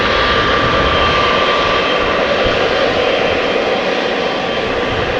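Jet engines of an eight-year-old Turkish Airlines Boeing 777-300 at Amsterdam Schiphol airport, a loud, steady, unbroken roar with a thin whine on top, heard alone.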